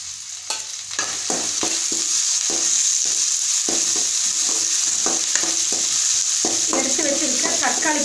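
Spices sizzle steadily in a hot pan with mint leaves while a utensil scrapes and stirs in irregular strokes, close and continuous, with crackling spatters building toward the end, while cooking rava kichadi.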